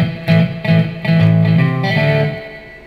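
An electric guitar plays through a Marshall Code 50 amp on its Plexi setting with reverb added. A few loud, driven chords strike in a steady rhythm and the last one rings out in a long reverberant tail.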